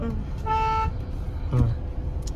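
Two short horn toots from an automatic car sound over a low engine rumble at a road junction, the first slightly longer than the second.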